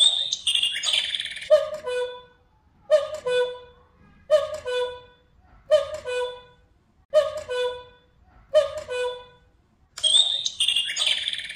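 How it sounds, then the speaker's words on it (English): A cuckoo clock's bird calls out the hour six times, each two-note cuckoo evenly spaced about a second and a half apart, clear and close, with brief mechanical chiming sounds just before and after the calls. "The bird tells the time 6 times."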